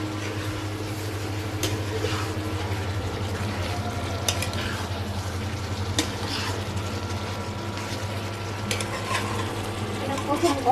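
Beef curry is stir-fried in a pot with a constant low sizzle and occasional spoon scrapes and taps against the metal, over a steady background hum.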